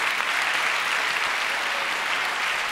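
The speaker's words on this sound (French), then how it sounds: "on lui applaudit encore un bon coup là!" Audience applauding an orchestra at the end of a school concert, a dense, steady wash of clapping from a large crowd, sustained and fairly loud throughout with no talk over it.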